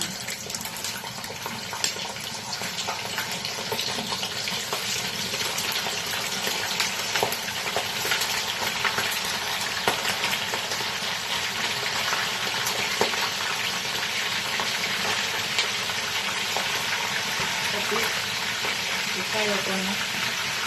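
Sea bass frying in hot oil that spatters, a loud, unbroken sizzle with crackling pops running steadily for about twenty seconds, with faint talk now and then.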